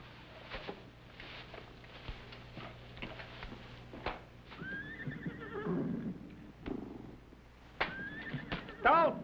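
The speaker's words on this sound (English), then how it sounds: "What do you suppose is bothering them horses?" Horses in a barn neigh and whinny several times, with a long high whinny in the middle and more calls near the end, over low stable noise and a few knocks or hoof clops.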